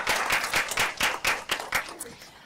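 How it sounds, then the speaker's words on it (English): Applause for doctoral candidates at an academic event, heard as a short run of distinct, rhythmic claps from a small audience that thins out toward the end. "let's have another round of applause for our doctoral candidates"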